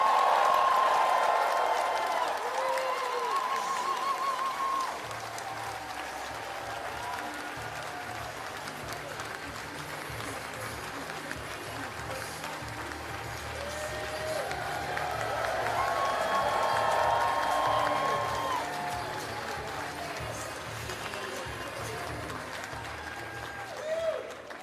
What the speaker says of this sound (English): let's give a round of applause and welcome Madame Diana Fox